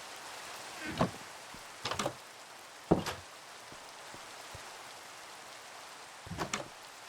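Steady video game rain falls as a soft, even hiss, broken by a few scattered louder knocks and clicks of gameplay.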